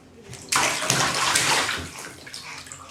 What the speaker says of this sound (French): T'éclabousses. T'éclabousses.